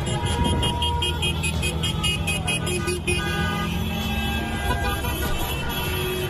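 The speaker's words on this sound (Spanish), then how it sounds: "La noticia derivó en caravanas de vehículos haciendo sonar sus bocinas en Montevideo" Car horns honk repeatedly and overlapping from a caravan of vehicles in Montevideo celebrating an election win, with continuous loud traffic and engine rumble underneath and sustained horn tones throughout.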